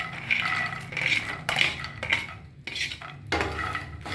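Roasted makhana and dry fruits are stirred in a metal pan, giving repeated scraping and clinking strokes with short pauses between them, close and clear.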